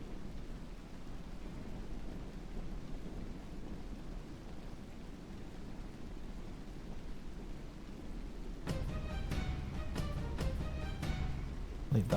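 Rain falls steadily in a modded Rome: Total War battle, a constant hiss with low rumbling, joined near the end by faint clattering and clicking sounds from the game.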